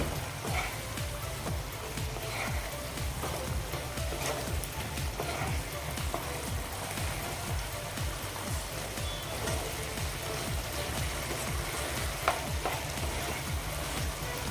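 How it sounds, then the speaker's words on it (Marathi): Moth bean (matki) curry with coriander being stirred in a pan, a continuous low sizzle and bubbling with faint scraping throughout, quiet and steady, with no voices. "आता आपण हे पुन्हा मिक्स करून घेऊया"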